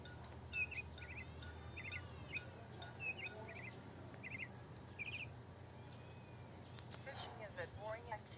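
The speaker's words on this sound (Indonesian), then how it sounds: "Suara burungnya akan diulang 2 kali." Scattered short bird chirps and squawks sound several times against a faint hiss of background noise, fairly distant and quiet.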